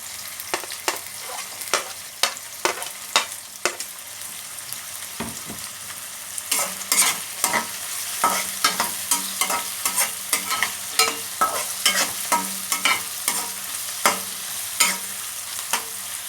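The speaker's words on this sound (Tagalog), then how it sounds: "Kailangan natin maluto yung ating garlic at onion." Garlic and onion sauté in a hot pan, a steady sizzle broken by repeated sharp scrapes and clacks of a spatula stirring, growing busier and more rhythmic toward the end.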